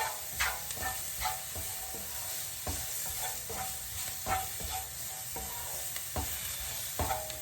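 Vegetables coated in dry Cajun spice sizzle in a pan, soft frying crackle broken by regular scraping stirs, fairly quiet and close, with no talking.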